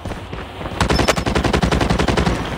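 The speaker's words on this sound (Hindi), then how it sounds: "चलो हम लोग मशीन गन लेकर घूमेंगे" Machine gun firing in Call of Duty Mobile, a loud, rapid continuous burst of shots starting after a brief quieter lead-in and running to the end.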